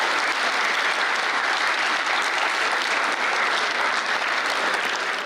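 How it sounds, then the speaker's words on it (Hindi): An audience applauds a visiting Iranian consul general at a welcoming event in Karachi, with dense, sustained clapping that stays loud and even throughout, with no voices over it. "हाज़रीन उनकी आमद पर खड़े हो गए और कई मिनट तक तालियां बजाते रहे"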